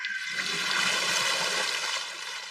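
Magically summoned water in an anime gushes out in a loud, steady rushing stream that tapers slightly toward the end, with no voices.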